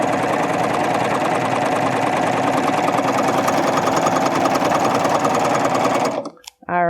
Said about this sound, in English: Get the needles in the fabric and finish serging.